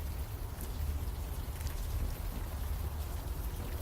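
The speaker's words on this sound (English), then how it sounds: "Besides this constant rain, right?" Steady, constant rain falls throughout in the video game Unavowed, a dense even hiss of drops with a rumbling low end and no voices.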